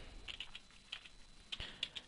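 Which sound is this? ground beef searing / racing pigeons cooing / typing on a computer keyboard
typing on a computer keyboard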